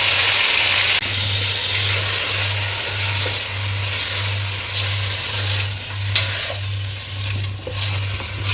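Mutton frying in oil with onions and mustard seeds for a Sunday-special mutton kuzhambu, a steady close sizzle with stirring scrapes throughout, accompanied by a low pulsing hum.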